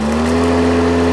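A DeWalt electric lawn mower runs with a loud, steady motor hum and whir, holding an even pitch throughout with no talking.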